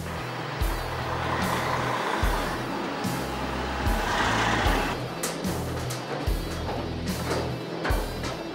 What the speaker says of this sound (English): you're ready to drive your truck forward